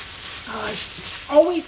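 Pork sizzling in oil in a pan, a short crackling fry at close range with a brief stir, a voice faintly in the background.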